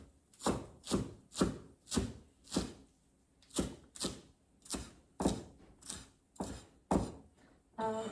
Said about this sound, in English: I'm going to chop those like quickly.